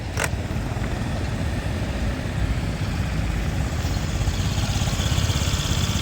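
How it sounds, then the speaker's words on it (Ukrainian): A Honda Tact AF79 fuel-injected Japanese scooter starts with a sharp kick and then idles with a steady, close, even putter that holds for several seconds. "Зараз покажу, як заводиться з кікстартера"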